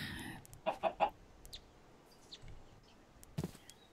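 Minecraft farm chickens give a few short, clipped clucks, a quick cluster of three early on and a couple more later, faint against a quiet game background.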